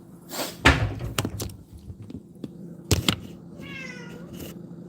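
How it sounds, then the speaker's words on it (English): A cat meows several times in a kitchen, its cries mixed with a few sharp knocks and thuds, fairly close and moderately loud. "the cat's crying"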